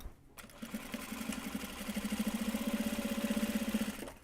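A sewing machine stitches the closing seam of a large box bag, its motor whirring up after a brief pause into a steady, fast, even hum of needle strokes lasting about four seconds, then stopping.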